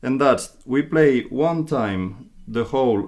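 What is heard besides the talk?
No distinct noise like a dog, phone or traffic.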